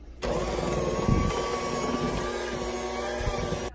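Electric hand mixer beating keto chocolate chip cookie dough, switching on abruptly with a steady whirring motor drone and the beaters clattering through the thick dough, then cutting off after about three and a half seconds.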